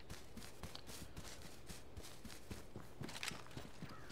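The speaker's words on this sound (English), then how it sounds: "I thought I heard footsteps." Footsteps in the survival shooter H1Z1, a faint, steady run of soft footfalls in the distance with light scuffing, heard alone.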